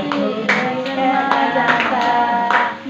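Rhythmic hand claps keep time in a devotional Vitthal chant, with a steady stream of clapping under sung music and a few sharper, louder claps standing out.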